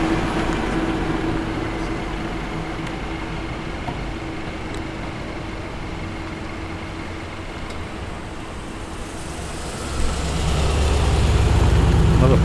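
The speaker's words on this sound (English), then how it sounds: "Another tough sounding SS Commodore. Got a nice burble V8." SS Commodore V8 engine rumbling low and steady at a car meet, a continuous deep burble that swells louder near the end as it moves off.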